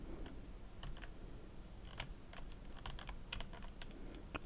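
Keyboard key presses while playing the Project Reality military shooter on PC, a steady run of light, crisp taps and clicks at close range over a low background hiss, with no talking.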